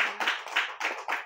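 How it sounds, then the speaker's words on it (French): A few quick rhythmic hand claps from an audience at a church service, about four or five sharp bursts in a row, close and moderately loud. "Applaudissez pour la lectrice."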